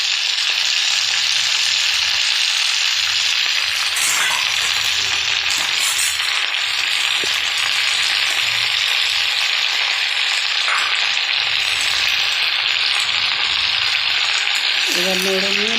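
Malabar spinach fries in a pan with a loud, continuous close sizzle and crackle, occasional stirring scrapes and small clinks throughout, no voice.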